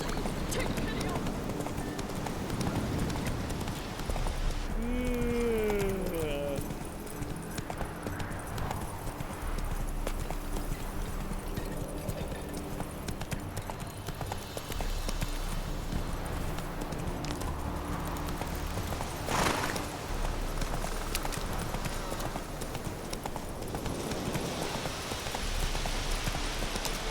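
Roach, a horse in the video game The Witcher 3, gallops with steady, loud clip-clopping hoofbeats that run the whole way through, while voices talk over the top.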